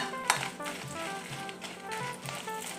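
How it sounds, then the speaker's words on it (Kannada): Dry red chillies, ten to fifteen of them, frying in oil in a pan for a Mangalore-style dried prawn chutney, giving a steady close crackling sizzle with light stirring scrapes and no talk. "ಸ್ವಲ್ಪ ಫ್ರೈ ಮಾಡುವ ಈಗ ಒಣಮೆಣಸು ಫ್ರೈ ಆಗ್ತಾ ಬಂತು"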